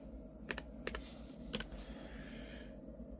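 A password is typed on a computer keyboard in a quiet room, with a few separate soft key clicks over a low steady hum.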